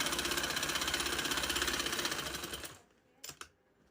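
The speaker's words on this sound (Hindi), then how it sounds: "फिर आगे आस्तीन की मैं सिलाई लगा रही हूँ।" A sewing machine runs steadily, stitching a garment sleeve, its fast even chatter continuing for most of the span before stopping abruptly, followed by a couple of brief clicks in the quiet.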